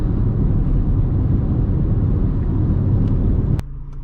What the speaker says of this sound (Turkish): Bir de sıcak asfalttaki yol sesine bakarız.